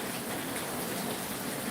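Heavy overnight rain pours down in a steady, dense wash of noise, loud and continuous with no voices.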